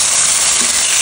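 Pork steaks sizzle and fry in a pan, a loud, steady hiss of hot oil that fills the whole moment up close, with no voices over it.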